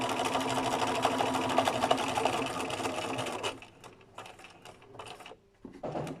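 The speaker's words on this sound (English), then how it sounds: "So at the moment I'm just stitching on to keep it in place" A sewing machine stitches fabric in place before embroidery, whirring in a fast continuous run for about three and a half seconds. It then stops, leaving soft scattered clicks and short bursts of handling.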